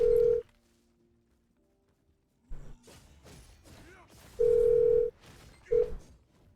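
A phone call is placed: a steady dial-style tone sounds, then after a pause come clattering handling noises and two more long ringing-tone beeps, loud and close.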